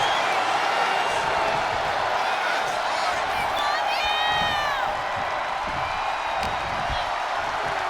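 Arena crowd cheering and whooping in the WWE 2K25 wrestling video game, a steady loud roar throughout with rising whistles and shouts near the middle.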